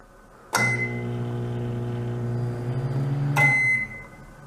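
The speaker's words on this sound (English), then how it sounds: "light bulb in a microwave, and this is the fluorescent bulb" A microwave oven hums steadily for about three seconds with a fluorescent light bulb inside, starting and stopping with sharp clicks and a buzzy electrical drone.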